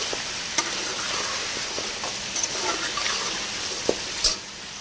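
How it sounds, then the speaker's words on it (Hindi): Beef pulao ingredients stirred in a frying pot, a steady sizzle with occasional scrapes and clinks of the spoon against the metal, fairly close. "इन सारी चीज़ों को करेंगे अच्छे से मिक्स।"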